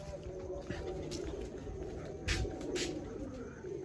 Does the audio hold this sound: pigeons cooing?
yes